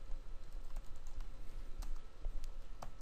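Soft typing on a computer keyboard, quick light keystrokes scattered irregularly over a low, steady room hum, fairly faint and close, with no one talking.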